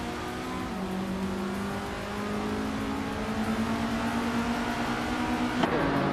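A 1979 Lada 2105 engine in a racing game holds a steady mid-revving drone with rising harmonic tones throughout, sustained and fairly loud, with a brief shift near the end.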